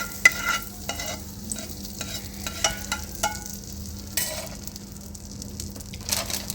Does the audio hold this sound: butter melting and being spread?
yes